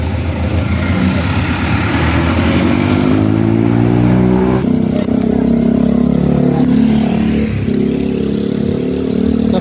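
Busy road traffic with cars, motorcycles and a waiting jeep, engines idling and revving close by in a steady loud rumble, a vehicle accelerating away partway through, with faint voices under the noise.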